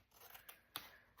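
Scissors snip through paper for a junk journal window envelope, a few quiet, crisp cuts close by, the sharpest snip standing out near the middle, with no talking.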